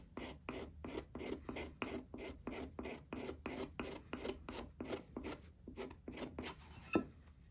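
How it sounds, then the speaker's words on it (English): A hand file rasps rhythmically across a metal scraper blade used for shaping slingshot frames, roughly twenty steady back-and-forth strokes, close and clear with no talking. "This one could use some sharpening."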